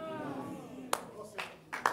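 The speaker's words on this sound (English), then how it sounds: "Wait, don't clap." A church congregation at a morning service breaks into scattered applause, three short bursts of clapping rising over a preacher's lingering voice and room echo.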